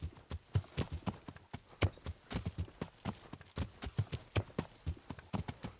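Horse hooves clip-clop steadily across hard ground in the medieval game Kingdom Come: Deliverance, a close, even rhythm of sharp hoofbeats continuing alone throughout.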